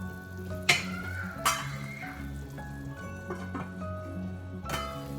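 Rasmalai patties frying in a covered pan, a quiet steady sizzle with a few sharp clicks and clatters of a utensil or lid.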